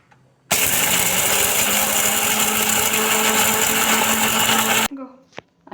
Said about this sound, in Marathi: आता मगाशी जी आपण चटणी पूड केली ती आता आपण मिक्सरमध्ये फिरवणार आहोत.